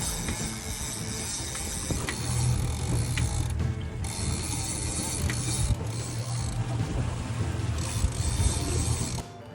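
A fishing reel's ratchet clicks in a fast, continuous buzz as a big hooked tuna strips line off Apollo Bay, the clicking loud and steady throughout over low boat and water rumble.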